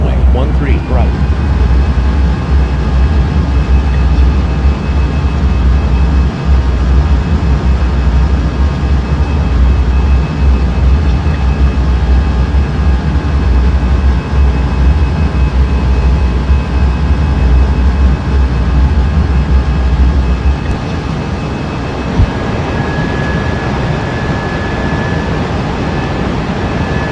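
A steady, loud airliner jet engine roar on takeoff in the Unmatched Air Traffic Control game, holding a constant drone with a faint rising whine before easing off near the end.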